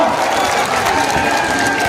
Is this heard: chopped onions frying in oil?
no